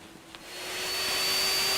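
The electric motor of a Ridgid B-500 pipe beveller switches on and spins up to a steady, loud, even whine with a broad airy hiss, heard close and without any talk.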